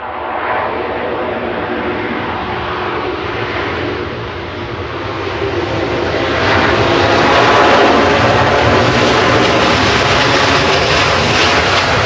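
An airplane landing at Manchester Airport makes a very loud, close jet roar that swells steadily and peaks near the end, with no talking over it.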